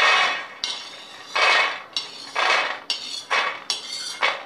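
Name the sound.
roasted peanuts transferred into a metal plate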